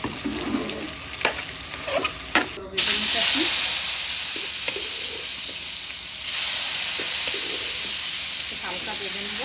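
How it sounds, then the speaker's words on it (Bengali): Food lightly frying in oil in a pan, a soft hissing sizzle that swells and continues steadily, with a few clinks and scrapes of a utensil early on. "হালকা ভেজে নেব।"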